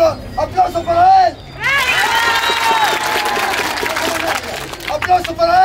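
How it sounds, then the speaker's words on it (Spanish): Audience at a live comedy show bursts into a loud, dense wash of applause that swells in abruptly and holds steady for several seconds before thinning out, with a voice speaking briefly before and after. "Aplauso para él."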